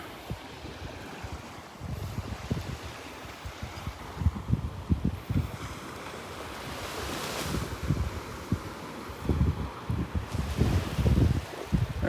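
Wind gusting at Vanderbilt Beach with surf washing in, rumbling buffets against the microphone rising and falling over steady wave noise, no voices.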